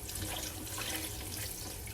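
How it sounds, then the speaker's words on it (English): Hot tap water runs steadily over freshly picked garden sage and rosemary being rinsed in a sink, a continuous close splashing hiss with no voices. "What I'm doing is I'm washing off some sage and rosemary that I just picked from our garden."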